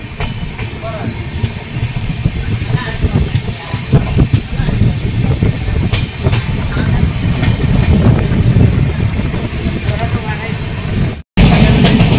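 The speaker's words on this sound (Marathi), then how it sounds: "गाडी येते बघ." A Diva–Sawantwadi passenger train passes near Ratnagiri in heavy rain. Its loud, steady rumble and wheel clatter run continuously for about eleven seconds, break off briefly, then resume near the end.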